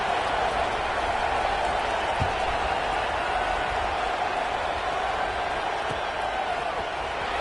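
A large stadium crowd at an Auburn Tigers football game gives off a constant, broad murmur and roar, with scattered claps, heard from a distance with an announcer's voice over it.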